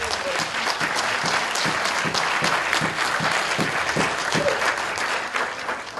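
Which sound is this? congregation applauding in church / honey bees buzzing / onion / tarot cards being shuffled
congregation applauding in church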